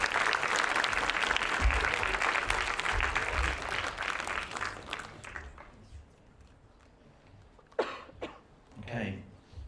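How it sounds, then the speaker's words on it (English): Audience applause fills an awards night hall: dense, steady clapping from a sizeable crowd that thins out and fades midway, followed by a few scattered claps and a brief cough. "keep that applause going, please"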